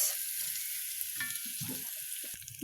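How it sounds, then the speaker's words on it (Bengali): Spice masala with roasted chili being sautéed in a pan, a steady hissing sizzle with soft intermittent stirring scrapes, close and continuous without talk. "এখন আমি এটাকে ভালোভাবে কষিয়ে নেব"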